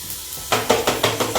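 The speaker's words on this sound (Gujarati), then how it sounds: "વઘાર તેલના છાંટા ઉડશે" Spices for a tempering hit hot oil, a faint hiss followed by a burst of loud sizzling and spattering that comes in several close, rhythmic pulses.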